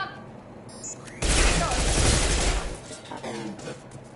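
Gunfire in the video game Mass Effect breaks out as a sudden loud burst of rapid shots and impacts after a quieter opening, then gradually thins out toward the end.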